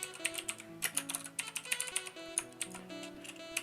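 Quick, light keystrokes on a computer keyboard typing an item description in MCreator, a steady patter over faint tonal background music.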